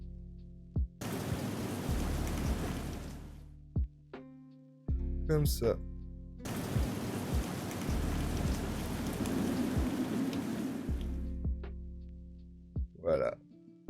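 A rain sound effect added in Vegas Pro plays as two bursts of steady hiss that fade out, separated by quiet gaps where a voice speaks briefly.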